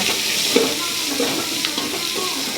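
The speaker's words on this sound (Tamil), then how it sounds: "பூண்டு செவந்து வந்துருக்குங்க. அது கூட சின்ன வெங்காயத்தை போடலாம்." Small onions and garlic fry in hot oil for a fish curry, a continuous close sizzle with a few soft stirring scrapes.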